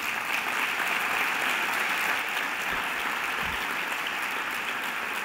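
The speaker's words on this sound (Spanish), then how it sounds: "un aplauso para Prensa Ibérica." A steady, full round of audience applause for Prensa Ibérica at the Levante-EMV awards gala in 2021, dense and even from start to finish.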